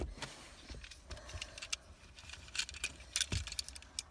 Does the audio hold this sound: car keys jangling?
yes